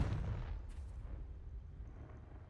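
Confringo blasting spell explosion in a wizarding video game: a deep, booming blast that starts at full force and rumbles away over a couple of seconds, with a brief crackle of debris partway through.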